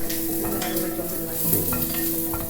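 Chopped onion frying in a pan for a coconut-milk seafood pasta, with a steady sizzle and a few scraping stirs of a spoon against the pan. No one speaks.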